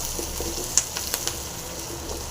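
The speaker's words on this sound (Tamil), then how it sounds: "பச்சை மிளகாய் இது வந்து நல்லா கொஞ்சம் ஃப்ரை ஆகட்டும்" Green chillies fry in hot oil for a herbal soup base, giving a steady soft sizzle with a few brief crackles and no talk.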